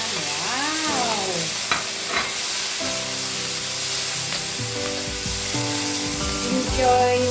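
Mixed vegetables for chopsuey are stir-fried in a pan, with continuous loud sizzling and hissing and scraping stirring strokes close up, and background music playing softly underneath.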